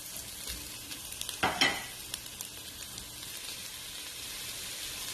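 Aromatics for Chinese beef noodle soup sizzle in a pan, with one loud stir scraping through at about a second and a half, then a steady, even frying hiss for the rest of the clip. No voices are heard.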